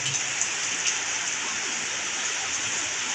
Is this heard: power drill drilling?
no